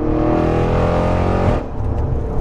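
An Audi RS6 with a 700 bhp V8 and Armytrix exhaust revs hard, its rising engine note climbing loudly up close before cutting to a rougher burbling rumble.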